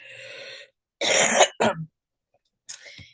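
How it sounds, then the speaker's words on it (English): A person coughs and clears their throat in a few harsh, close bursts separated by short silences. "I'm sorry, I do have to cough a couple times."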